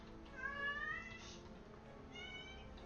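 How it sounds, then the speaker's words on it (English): A cat meows twice, the first a drawn-out rising call and the second shorter, moderately close and fairly quiet over a steady low room hum, with no talking. "The cat is saying hello."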